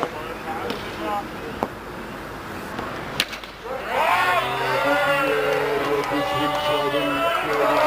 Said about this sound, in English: This has suddenly made the dugout of Sapphire Construction very loud and cheering for his team.